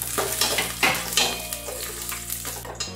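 Cashews and raisins fry in oil for white vegetarian pulao, giving a loud, close sizzle with steady stirring scrapes and occasional utensil knocks against the pan throughout.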